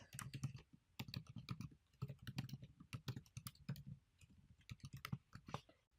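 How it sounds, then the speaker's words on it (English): Rapid, irregular clatter of keys on a computer keyboard, typed in bursts with brief pauses, close and fairly quiet, no voices. "typing their answers in the text box"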